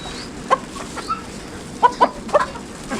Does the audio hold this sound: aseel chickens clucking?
yes